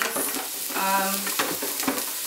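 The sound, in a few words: onions sautéing in a pan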